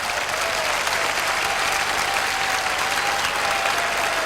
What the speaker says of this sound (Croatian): Pozdravimo aplauzom i naš dragi bratski grad Zadar.